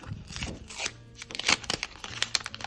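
A paper sticker surprise packet is torn open by hand, giving close, crisp rips and crinkles in irregular bursts that grow busier toward the end.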